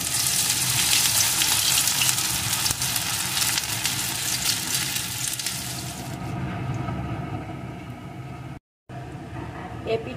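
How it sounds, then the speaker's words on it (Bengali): Small pointed gourd pakoras fry in hot white oil in a kadai, a dense, loud crackling sizzle that softens midway, briefly cuts out, then resumes more quietly. "এখন ছোট ছোট আকারে দিয়ে পকোড়াগুলোকে ভেজে নেব।"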